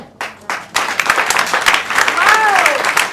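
A church congregation bursts into clapping and cheering at a sermon, starting with a few sharp claps, then swelling into loud, uneven applause mixed with shouting voices and a rising whoop.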